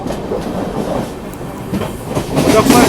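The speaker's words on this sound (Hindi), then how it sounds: "Muzaffarpur SMVT Bengaluru express." The Muzaffarpur SMVT Bengaluru Express rushes past in a steady, loud rumble of wheels and rail clatter that swells toward the end, heard from aboard another moving train in Bihar, with faint speech mixed in.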